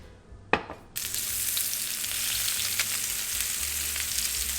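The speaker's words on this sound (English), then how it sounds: "this is perfect for frying salmon." Salmon hits hot avocado oil in a pan with a sharp initial crackle, then settles into a loud, steady, close sizzle that continues without pause.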